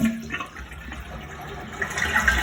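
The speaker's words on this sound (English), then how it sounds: "So you flush once the water's off." A toilet being flushed after its water supply has been shut off, likely a 2.5-gallon tank model, gives a steady rushing and swirling of water that swells toward the end, heard alone without talk.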